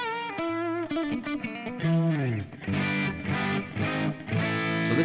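A PRS Silver Sky SE electric guitar plays through a JM45 Blues Lead amp model, based on the Marshall JM45 and set to a hotter scene. Sustained single notes give way to driven, distorted chords that ring out in bursts.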